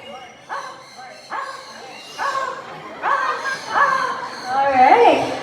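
A parrot at a safari park bird show imitates a dog, giving a string of yapping bark-like calls that grow louder and more excited, with people talking and laughing around it.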